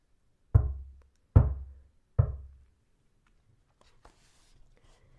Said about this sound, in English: the wolf ran straight to the grandmother's house and knocked on the door